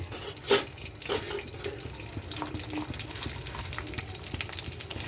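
Chopped onion fries in a small amount of oil with a continuous close sizzle and crackle, broken by a few sharp clinks and scrapes of a utensil against the pan.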